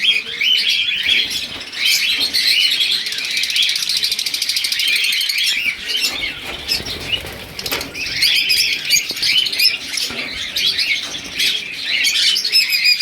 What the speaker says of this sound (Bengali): লাভ বার্ড দেখুন এটা আমার ব্রিডিং সেটা